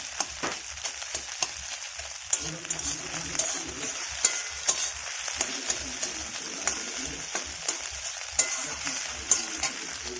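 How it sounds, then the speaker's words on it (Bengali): Three eggs scrambled and fried in a wok-style pan give a steady crackling sizzle with repeated scraping stirs, close and moderately loud, with no talk over it. "ডিমগুলোকে এরকমভাবে ঝুড়ো করে ভেজে নিতে হবে।"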